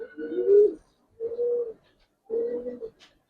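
A Giribaz pigeon of silver colouring coos close by, three soft, even, low calls spaced about a second apart with silence between them.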